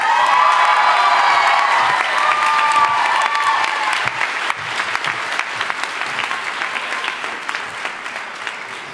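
A graduation convocation audience fills the hall with sustained applause, whoops and cheers that start strong and taper into scattered, crisp clapping.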